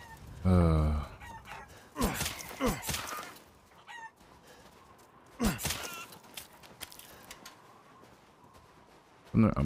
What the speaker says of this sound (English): And some chickens.